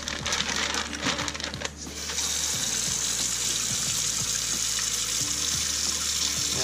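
Tap water gushes steadily into a bag holding a whole crappie before scaling and gutting, a continuous rushing pour heard close and alone after a brief noisier start.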